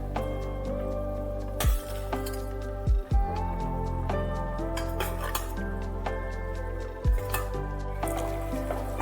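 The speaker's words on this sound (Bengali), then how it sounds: "এবার ভেজে রাখা কপিগুলো এর মধ্যে দিয়ে দিতে হবে।" Fried cauliflower pieces go into simmering gravy in a pan: several sharp clanks of a metal spoon against the pot stand out over a soft, steady bubbling and stirring.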